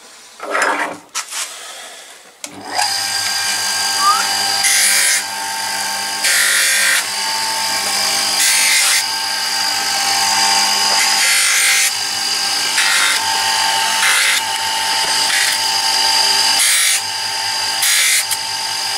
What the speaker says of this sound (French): La machine à polir, elle travaille.